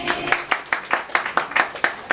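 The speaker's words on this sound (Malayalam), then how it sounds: "എല്ലാവരും റെഡി ആണെങ്കിൽ ഒരു നല്ല കയ്യടി തന്നെ" Guests at a birthday celebration clap in a slow, even rhythm of about ten crisp claps, moderately close, with faint background chatter.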